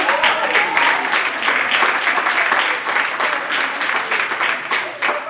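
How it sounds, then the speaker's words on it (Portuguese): Church congregation applauding together, a full, even wave of clapping that stays strong for several seconds before softening slightly, with scattered voices underneath. "Pode aplaudir o Senhor."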